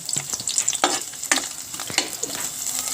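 Onion sizzling in hot cooking oil in a pan, a steady bright hiss with several stirring scrapes and clatters at close range, no talking.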